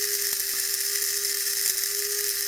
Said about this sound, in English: The camera picks up, it amplifies the noises of the motors inside